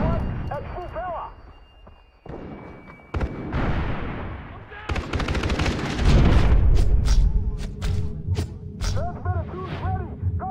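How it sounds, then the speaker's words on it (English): Grenade explosion in a team shooter video game, a heavy booming blast followed by a long rumbling roar and scattered debris, with voices speaking before and around it and intermittent game tones. "I'm throwing a grenade."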